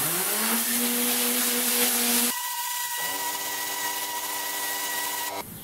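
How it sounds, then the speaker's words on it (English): A Tornador cleaning gun set to air only, blowing a steady loud hiss of air to dry a cleaned area, with a tonal whistling edge that shifts pitch partway through. "Then I can take my gun and set it to air only."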